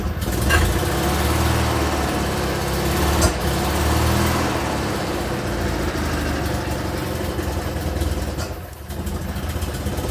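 A small Invacar engine runs steadily just after its first start in a while, with some choke taken off, its rough, buzzing note close and continuous throughout.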